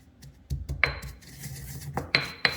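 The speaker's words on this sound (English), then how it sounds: "So we've dry roasted our cumin and then crushed it a little bit" Dry-roasted cumin seeds are lightly crushed in a few distinct gritty scrapes and clinks against hard cookware, close and fairly quiet, with short silences between strokes.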